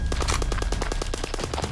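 Cartoon guns fire in a rapid, loud, close burst of repeated shots during an animated robbery attack, with no talking over it.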